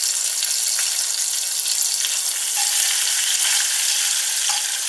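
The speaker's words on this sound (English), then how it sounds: "Now I'm going to add the butter in first." Butter sizzles in a hot frying pan while fish is pan fried, giving a loud, continuous crackling hiss with faint pops throughout and no talking.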